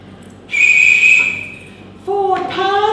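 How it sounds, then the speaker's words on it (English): A referee's whistle shrills during a rugby match, one long steady blast followed after a short pause by a second, lower-pitched blast, both loud and close. "at the appropriate times I would blow my whistle"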